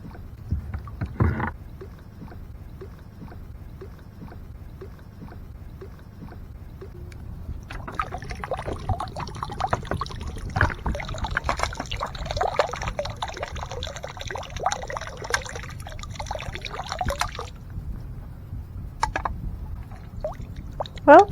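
A canoe is paddled across a lake, with rhythmic paddle strokes, dripping and swishing water, and a gentle hull knock, close and steady, with a busier splashing stretch in the middle.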